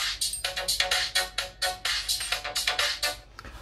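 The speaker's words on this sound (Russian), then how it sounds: "Давайте какую-нибудь другую еще мелодию." A Samsung Galaxy A11 smartphone plays a ringtone melody through its built-in speaker at full volume, a bright, rapid sequence of synthesized notes in a bouncy rhythm, loud and alone in a quiet room.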